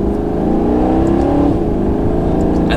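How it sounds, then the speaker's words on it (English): A Maserati GranTurismo Sport's V8 engine rumbles loudly and steadily with a slight rise in revs, heard close up without any talk. "I love that V8 rumble."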